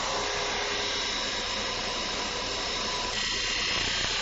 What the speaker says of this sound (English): The saucer shape can now be cut using the 3/8 spindle gouge.